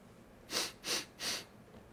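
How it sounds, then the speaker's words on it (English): A person sniffs the air in three quick, close nasal inhales, evenly spaced and fairly soft, with quiet pauses between them. "Sniff, sniff."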